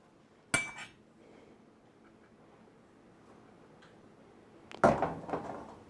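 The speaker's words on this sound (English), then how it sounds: "in this third metal bowl, I'm going to get 2 3/4 cups of flour" Metal clinks as flour is measured into a metal bowl for snickerdoodle cookies: one sharp clink of a utensil against the bowl, a quiet stretch of faint shuffling, then a second louder rattle of clinks.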